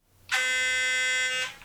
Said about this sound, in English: Why don't I show you what my cool sonic toothbrush sounds like?